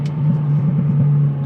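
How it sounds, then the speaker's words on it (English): A Hyundai i20N hatchback's engine hums in a low, steady drone while driving, heard from inside the cabin, with a faint rumble and no talking. "Not sure about the engine note."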